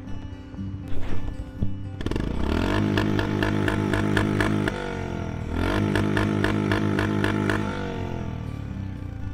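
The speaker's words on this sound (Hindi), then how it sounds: "इसका एग्जॉस्ट नोट सुनाता हूँ।" A 2022-model motorcycle revving near the microphone, its exhaust note swelling through two long throttle pulls with a steady harmonic drone and rhythmic firing pulses, loud and alone with no talking.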